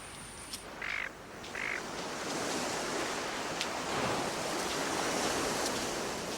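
Gentle waves wash onto a long flat beach on the Gulf of Carpentaria, a soft continuous surf hiss with a few brief bird calls early on.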